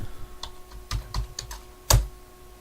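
Keys clatter on a computer keyboard while setting up a Rust game server, a few scattered taps followed by one louder, sharper keystroke, close and clear with no voices.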